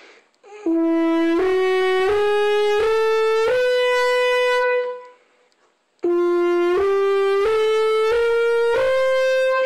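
A horn plays the first five notes of a major scale as a slow rising run, each held about a second, pauses briefly, then starts the same climb again.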